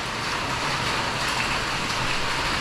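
Steady rain falls at Shivagange hill near Bengaluru, an even, dense hiss of drops on surfaces holding at constant strength throughout, with no other sounds standing out.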